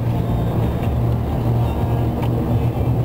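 A car drives along a snowy road during a snowstorm, a steady loud low engine and road rumble from inside the cabin, continuous with no voices.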